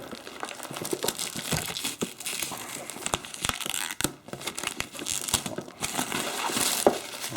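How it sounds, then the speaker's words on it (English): Plastic wrapping being crinkled and torn open on a boxed board game, 1754: Conquest – The French & Indian War, a dense, continuous run of close crackling and ripping sounds with no talking. "But let's zip this open."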